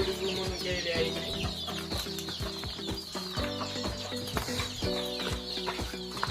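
Chickens on a poultry farm cluck and peep continuously in a busy, crowded chorus, close and fairly loud.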